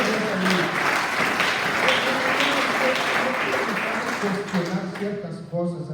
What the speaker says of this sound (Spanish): Un fuerte aplauso a Dios, gloria a Dios.